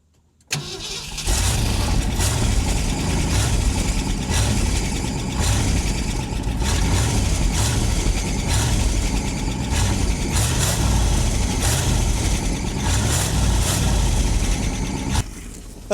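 Car engine cranks and catches after a moment of silence, then settles into a steady, loud idle close by, running on its own until it cuts off near the end.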